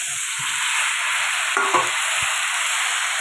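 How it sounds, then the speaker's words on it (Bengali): Leafy greens stir-fried with fried prawns and vegetables in a pan, giving a steady broadband sizzle throughout, with a few soft scrapes and clinks of the spatula stirring near the middle. "পাতাটা দিয়ে একটু দু মিনিট মতো নেড়ে চেড়ে কষিয়ে নিয়েছি"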